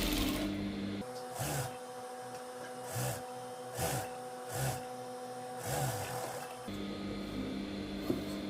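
A sewing machine stitching the hem of a gown runs in a steady mechanical hum, with several brief louder thumps and clacks spaced through it, close and fairly quiet.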